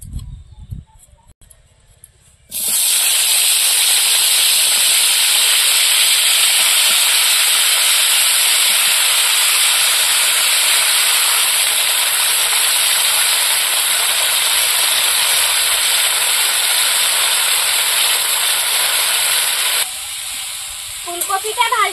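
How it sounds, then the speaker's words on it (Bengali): Cauliflower pieces fry in hot oil in a pan, a loud, steady sizzling hiss that starts suddenly and runs unbroken for most of the clip before easing off near the end, with faint clatter around it. "এবার ফুলকপিগুলো ভেজে নেব।"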